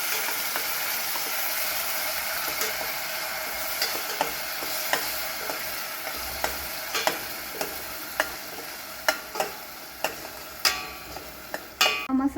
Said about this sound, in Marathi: हा मसाला 4-5 मिनिटं परतून घेऊया।